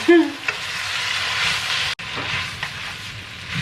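Pad thai rice noodles are stir-fried in a hot pan, giving a loud, close, steady sizzle with scraping stir strokes and a brief break partway through.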